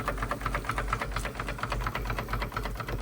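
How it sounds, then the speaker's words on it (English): A restored Wilesco D32 toy steam engine runs steadily, giving a fast, even chuffing rhythm with a gurgling undertone and no rattles, close and continuous. "But it don't sound like a bad engine to me. No rattles. You can hear it gurgling."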